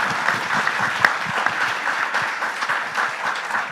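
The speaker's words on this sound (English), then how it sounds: "give a big round of applause for Korea" An audience at an international flight safety seminar applauds warmly, a dense, steady patter of many hands clapping close by that carries on evenly without any voices.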